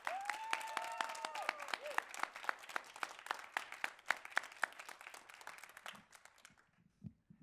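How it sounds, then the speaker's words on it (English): Sparse but lively applause rings out at a poetry slam, individual sharp claps close by, with whoops and a cheering voice early on before the clapping fades out to near quiet. "Let's give one more round of applause for all of our performers tonight."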